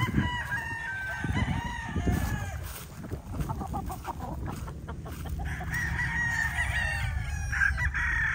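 Young gamecock stags crow repeatedly, several birds calling near and overlapping one another, with clucking and barnyard fowl noise around them and no talk.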